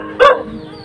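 A single sharp dog bark rings out close by, short and loud, against a steady background hiss that may be heavy rain.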